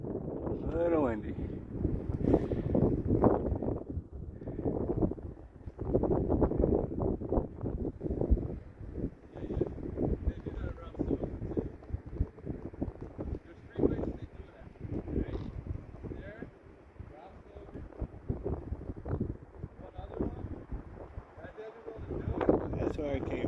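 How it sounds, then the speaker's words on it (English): Gusty wind buffets the microphone on a mountain trail near McAfee Knob, rising and falling in irregular low rumbling bursts, fairly quiet overall. "A little windy."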